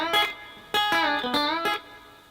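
Electric guitar playing a country rock lick with string bends: a few sharp picked notes and bent pitches in quick bursts, clear and moderately loud, with brief gaps between phrases and no voice.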